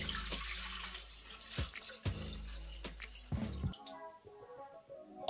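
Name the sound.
water poured into Cecotec Mambo jug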